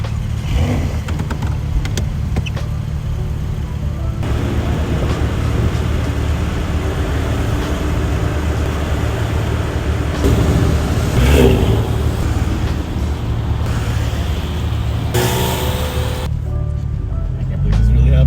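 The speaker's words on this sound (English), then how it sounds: "this is so surreal being able to actually drive this today" A Porsche 996 Turbo driven on the Laguna Seca race track, its engine droning steadily from inside the cabin with shifting revs and wind rush throughout, a voice speaking over it.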